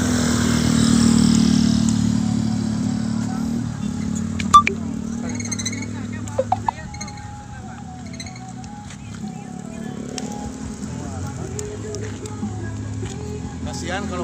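Motorcycles pass along a partially closed road during a tyre-burning protest, engine drone and revving rising and fading under ongoing talk, with a few sharp clicks and bird calls.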